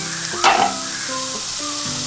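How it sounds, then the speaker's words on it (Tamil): Ginger and garlic fry in a pan for chicken liver curry, giving a steady close sizzle with a brief louder clatter of stirring near the start and a soft tonal hum underneath throughout. "இஞ்சி பூண்டு நல்லா வதங்கிடுச்சுங்க."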